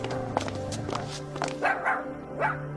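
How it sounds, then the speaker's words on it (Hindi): Dog barking, a run of sharp barks at moderate distance, several spaced yaps and woofs coming in quick succession over a steady low background hum, with no talk over them. "अब तो टॉमी ओम को देखते ही भौंकने लगता है।"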